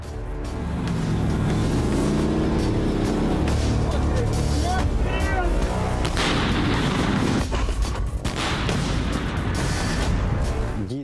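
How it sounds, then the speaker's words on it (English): Heavy artillery fire booms repeatedly on the Ukrainian front line, loud and continuous, mixed with rumbling armored vehicle engines and sharp blasts. "there is still a place in war for such proven tools as artillery and armored vehicles"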